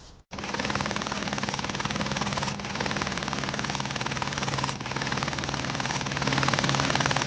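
A helicopter evacuation flight at a high-altitude base camp at 17,500 feet gives a steady, dense rotor roar. The chopping beat goes on with only slight dips, fills the whole scene and has no voices over it.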